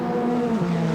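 Formula Ford race cars with 1600cc Ford engines howl loudly at a Bathurst support race, the engine note holding high and then dropping in pitch as a car goes past.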